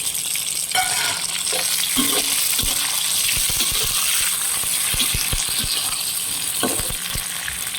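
Tomato and green chilies sautéing in a pan with onion, garlic, curry leaves and ginger, a loud continuous sizzle with scattered scraping and stirring clatter, no voices.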